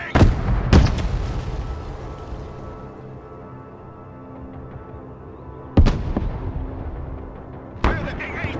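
Gunfire and explosions crack out in the video game Broken Arrow: sharp loud blasts near the start and again around six and eight seconds, each decaying into rumbling echo, with a low background din between them.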